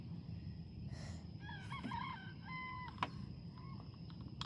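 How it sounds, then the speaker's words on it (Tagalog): Chickens call faintly near houses in a rural Philippine setting, a series of short clucks and a drawn-out rooster-like call heard at a distance over steady low rumble. "Maraming manok eh."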